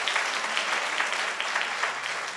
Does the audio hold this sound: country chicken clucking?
no